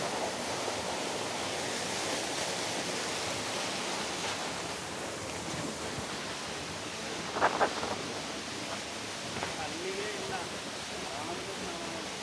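Waterfall at Apsarakonda, a steady, even rush of falling water heard at moderate distance, with brief voices and a few faint sounds over the constant roar.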